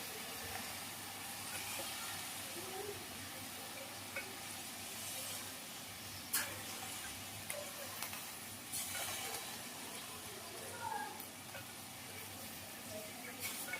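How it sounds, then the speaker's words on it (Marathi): Cauliflower florets, green peas and potato pieces go into a hot cooking pot, giving a steady, moderate sizzle and hiss throughout, with a few brief clinks and stirring bumps. "आता भाजी घालणार आहे याच्यामध्ये फ्लावरची."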